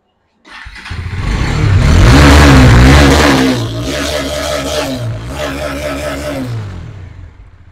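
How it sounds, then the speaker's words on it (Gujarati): A Bajaj Dominar 400 motorcycle in superb condition revs hard and close, with a loud rising roar that eases back into a throbbing idle and then a second, smaller rev over nearly eight seconds. "અવાજ એ જોરદાર છે ગાડીનો."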